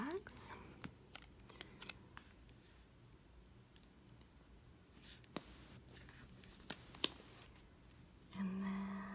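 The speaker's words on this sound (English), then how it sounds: "I'm just going to trim off those last flags." Scissors trim planner sticker flags in a few quick, faint snips scattered across a quiet desk setting, with a louder rustle near the end.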